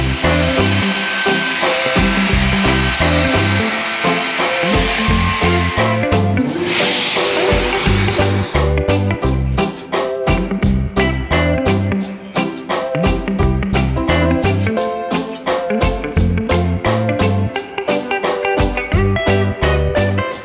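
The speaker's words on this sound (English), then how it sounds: "that's going to very quickly run around the outside of the project and just finish off our profile pass" A Yeti Tool CNC router runs a fast profile pass around the outside of a small wooden Christmas bauble, giving a loud, steady whine with rhythmic pulsing and a brief harsher burst partway through.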